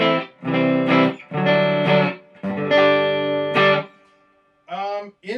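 Distorted electric guitar, a budget Glarry Model 170, playing a few sustained chords and a short riff, each ringing out with a reverb tail before the next.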